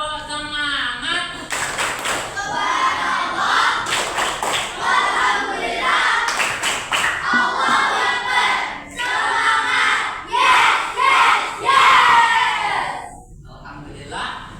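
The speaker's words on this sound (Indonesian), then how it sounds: "Tepuk semangat." A school class does rhythmic spirit clapping at the start of a morning lesson, with sharp clap bursts falling in patterned groups. Children's voices chant along loudly throughout the sequence.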